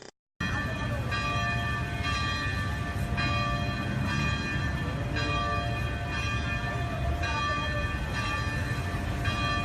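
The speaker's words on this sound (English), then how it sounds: "was watching the bell ring at the Catholic Church of the Philippines" A church bell tolls at a Catholic church in the Philippines, heard as a steady ringing tone with periodic strikes about once a second over a constant background hum.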